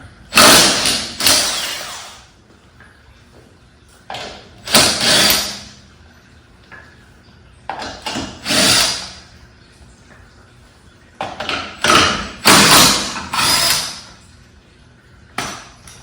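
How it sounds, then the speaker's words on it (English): Wheel lug bolts on a Hyundai Elantra being loosened with a power tool, several loud separate rattling bursts of a second or two each, with quiet gaps between them. "I'm just gonna loosen these, set all the bolts down"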